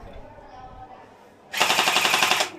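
A toy gun firing gel bullets lets off one loud, rapid burst of about a second after a quieter stretch with people talking nearby.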